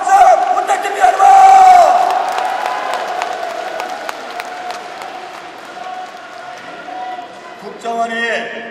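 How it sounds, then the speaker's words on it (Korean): A crowd at a Democratic Party political rally in Seoul bursts into loud cheering and applause, with shouting voices and whoops swelling early, then settling into sustained clapping and crowd noise. "힘찬 박수와 함성 부탁드립니다, 여러분!"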